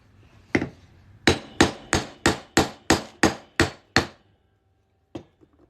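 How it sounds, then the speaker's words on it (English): A punch is hammered on a 1/2 oz fine silver round being shaped into a coin ring with a 1/2 inch punch: about ten sharp metallic blows in a steady, even rhythm, close and loud, then a pause and one last lighter tap. "We'll zoom out here and hammer on through."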